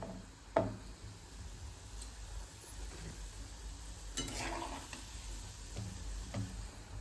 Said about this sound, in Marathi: कमी गॅसवर तळ ना हे असे खूप अशा लेअर सुटतात